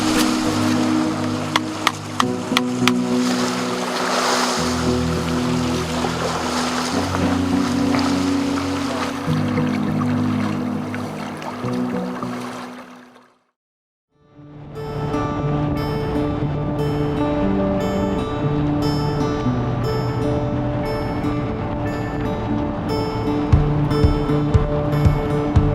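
Waves wash along the Lake Superior shoreline in winter, a loud continuous rushing surge close by that fades to near silence midway before the roar returns, no voices.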